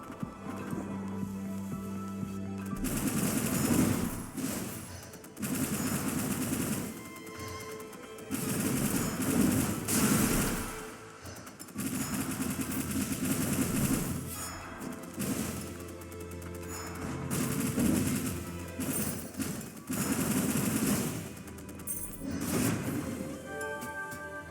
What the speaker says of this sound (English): What are we shooting at here?